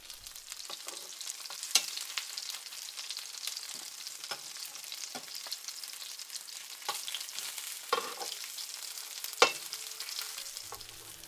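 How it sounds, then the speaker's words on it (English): Bass fillets fry in a pan with a continuous soft sizzle and crackle, broken by occasional sharper pops and spatters, steady and close with no talking. "The idea is to cook these a couple of minutes on each side."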